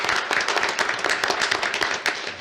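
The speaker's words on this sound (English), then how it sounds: "Let's give a round of applause." Moderate round of clapping from attendees at a county commission meeting welcoming a newly announced chief appraiser: a room of individual, fairly distinct hand claps, steady throughout.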